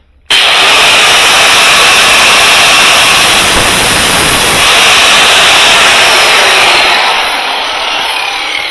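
Power tool cutting off the end of a Sub-Zero tubular handle set screw tool, a loud, steady high-pitched grinding whine that starts abruptly and holds throughout, easing slightly toward the end.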